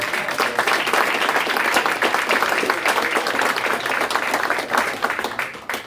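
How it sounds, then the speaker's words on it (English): Sustained audience applause at a maritime security conference panel, dense clapping from a large crowd filling the room steadily for several seconds without a break. "But how about a nice round of applause?"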